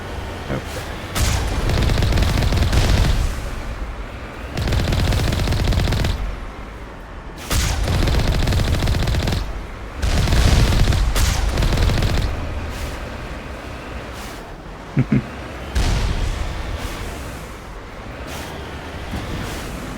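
Bursts of gunfire in Mass Effect, repeated loud volleys in several long blocks with brief gaps, echoing booms and rumble carrying between them.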